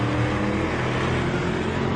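Off-road race cars lapping the track at the 2017 MetalCloak Stampede make a dense, unbroken engine roar that stays loud and steady with no clear pass-by peaks; no voices.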